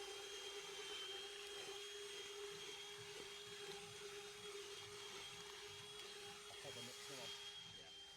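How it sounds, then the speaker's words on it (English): A mixer blends resin for a resin driveway, running as a steady droning whir with a constant hum throughout. "Mixer's on now."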